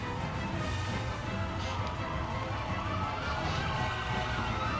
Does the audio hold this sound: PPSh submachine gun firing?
no